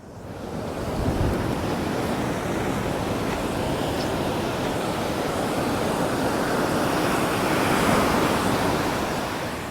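Ocean surf breaks steadily on a beach where Pacific snook are fished, a loud continuous wash of crashing waves with wind noise on the microphone and no voices.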